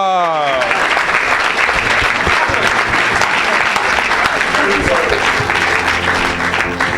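Loud, sustained applause from a church congregation during a bilingual French–English sermon fills the whole stretch, dense and continuous, with a few voices rising through it.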